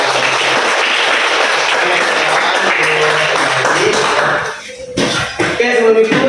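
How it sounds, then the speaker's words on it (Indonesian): A classroom group claps together, a loud, dense burst of hands lasting about four seconds before breaking off into scattered taps and shuffling, with some voices mixed in near the end. "tepuk tangan untuk kita semua"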